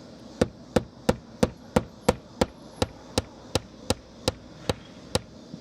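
A hammer drives a nail into house siding at a Habitat for Humanity build, fifteen sharp, even blows about three per second, loud and close.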